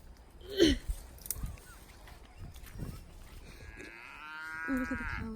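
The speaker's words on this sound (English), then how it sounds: "Oh, look at the cows." Cows on a farm in Fiji give a few low moos, one loud and nearby, among outdoor rustle, while people talk in the background.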